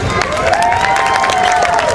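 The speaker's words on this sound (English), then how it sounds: "Everybody give Melissa a big round of applause." Fair crowd giving loud applause and cheering for a volunteer joining a stage act, close, dense clapping with shouts and a sustained whoop rising over it throughout.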